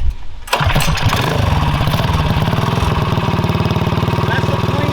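Wildcat 240 mini bike engine kicks into life after a brief quiet moment, then runs loud and close in a steady, rapid idle putter.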